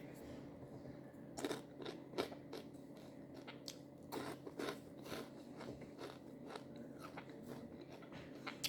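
Crispy deep-fried chili peppers, seeds removed, crunched by mouth in several sharp bites with chewing in between, close and fairly quiet over a steady background hum.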